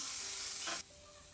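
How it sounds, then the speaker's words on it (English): Oil and chopped garlic hit a hot pan for stir-frying, a loud bright sizzle with stirring that drops abruptly to a quieter, steadier hiss after a short burst. "I'm going to add some oil and chopped garlic and stir fry"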